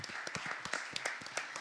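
Scattered audience clapping for the organizers of an African music event, a loose patter of individual claps at moderate distance, thin and uneven rather than a full ovation.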